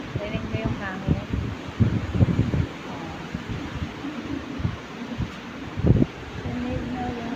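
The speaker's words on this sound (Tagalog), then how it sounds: "Rinig mo yung hangin?" Steady broadband wind roars across the microphone throughout, with people talking underneath and occasional buffeting gusts.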